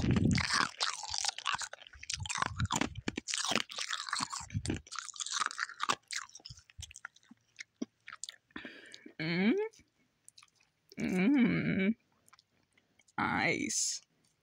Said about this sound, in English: this is the ASMR portion of the video in which I